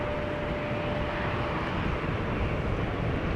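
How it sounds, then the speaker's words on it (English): An EasyJet Airbus A319 at rainy Amsterdam Schiphol gives off a steady, broad jet-engine roar that stays level and continuous for a few seconds, with no voices over it. "This is an A319 from Portugal, from EasyJet going to Palermo in Italy."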